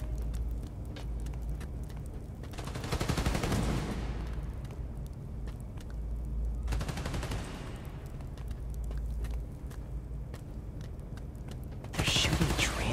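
Bursts of automatic gunfire in the Spider-Man Miles Morales video game, rapid sustained volleys about a second long recurring amid a low rumbling game ambience, with one louder burst at the end.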